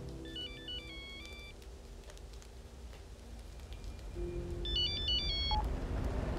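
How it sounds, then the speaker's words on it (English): A mobile phone ringtone plays a short electronic melody twice, separated by a pause, fairly clear over a low background hiss like rain in a quiet room. "Your phone's ringing."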